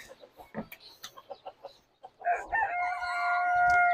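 Hens cluck in a quick, irregular series, then a rooster lets out a long, loud crow close by.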